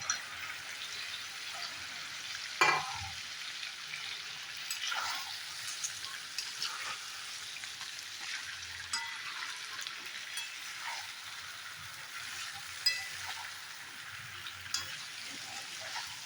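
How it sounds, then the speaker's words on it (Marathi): Stuffed brinjals fry in a pan with a quiet, continuous sizzle, punctuated by occasional soft stirring taps and crackles, with no voices. "वांगी सोडून देत आहे"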